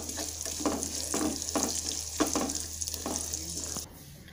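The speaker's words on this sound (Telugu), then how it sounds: "చివరిగా పసుపుని వేసి కలుపుకోండి।" Turmeric being stirred into a peanut tempering sizzling in hot oil for mango pulihora, with a steady fry hiss and several spoon scrapes against the pan, stopping abruptly near the end.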